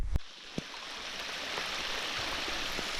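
A small forest stream runs during a rain walk, a soft steady rushing wash with a few faint clicks and knocks near the start, quiet and unbroken throughout.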